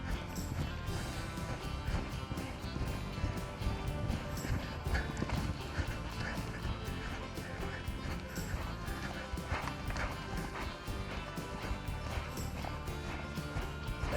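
Hooves clip-clop steadily as a horse lopes in a circle during a training session, the rhythmic footfalls continuous and fairly close over a busy, noisy background.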